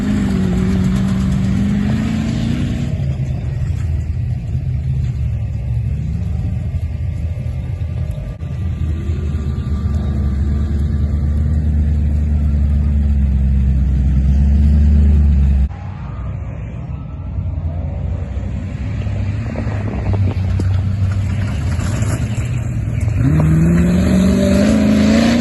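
A competition safari rally race car sets off on a lap, its engine revving hard and rumbling close by, pitch climbing and dropping through gear changes, with no voices.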